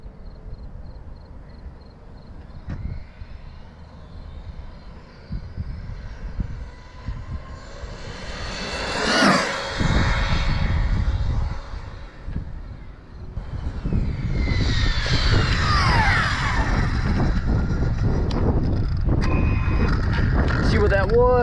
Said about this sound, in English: The moment I've been waiting for to run this guy on 6S with the new Speedrun motor.